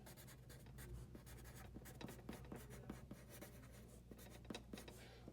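Handwritten notes going onto paper with a pen or pencil, quick scratchy strokes in an irregular rhythm close up, with no voices.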